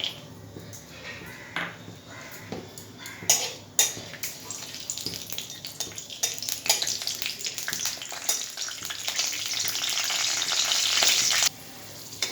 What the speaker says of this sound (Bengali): আমি এর জন্য নিয়েছি একটুখানি কাঁচা বাদাম। এটাকে আমি ভেজে নেবো তেলের মধ্যে।